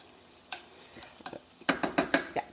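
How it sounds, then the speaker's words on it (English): A utensil stirs tomato paste as it toasts on the bottom of a pan, giving a string of sharp scraping clicks and taps over a faint sizzle, growing quicker and louder toward the end. "I'm going to put it right on the bottom of the pan so it can get toasted"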